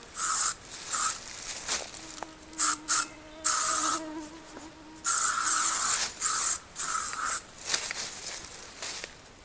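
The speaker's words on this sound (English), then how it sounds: "those are some bugs" Swarm of bugs buzzing close in Northern Ontario woods, loud whining drones that come and go in bursts with brief gaps between passes.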